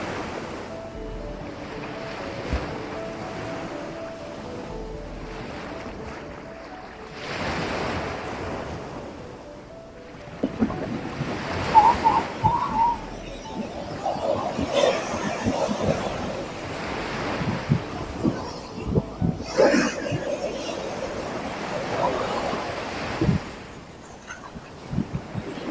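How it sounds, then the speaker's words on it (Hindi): Ocean waves at Madhavpur beach on the Gujarat coast, surf rolling and breaking in repeated surges with wind buffeting the microphone; loud and close, steady wash building into sharper crashes in the second half, no talk. "आप देख सकते हैं लहरें बहुत ज़्यादा हो रही है"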